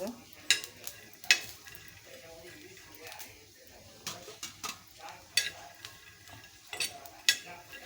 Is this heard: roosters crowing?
no